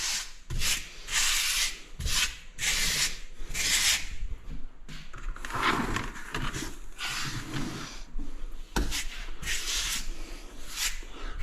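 Grout is squeegeed off tiles in repeated close, gritty sweeping strokes that come in quick rhythmic bursts, each a short rasping scrape, continuing steadily without talk.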